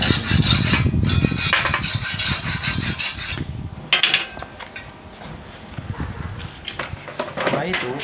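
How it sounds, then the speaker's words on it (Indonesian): A hand tool scrapes and rasps slag left on a weld in a welding practice workshop, giving a dense, gritty, irregular scratching that runs near and fairly loud throughout. "kita bersihkan sisa-sisa hasil pengelasan ini menggunakan alat ini"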